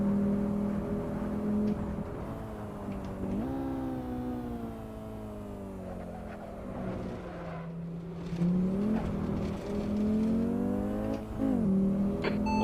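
Race car engine droning and shifting pitch as it laps a pitch-black night track in a racing video game, loud and continuous with rising and falling revs, running alone without talk.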